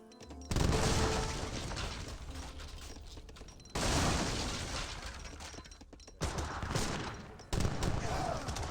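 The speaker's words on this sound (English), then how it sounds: "Leather cannons hitting the musketeers" Repeated bursts of loud gunfire and booming blasts in Age of Empires 3, with dense crackling volleys separated by brief gaps, like battlefield cannon and musket fire.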